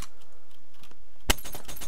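A single sharp gunshot-like blast cracks out midway in the video game Brick Force, followed by a dense, noisy rattle of game-style firing; quiet before the shot.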